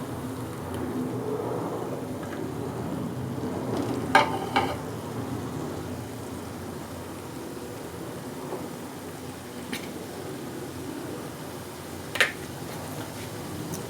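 Onion paste fries and sizzles in ghee and cooking oil in a pot, with steady close sizzling and occasional stirring scrapes and clicks of a spoon.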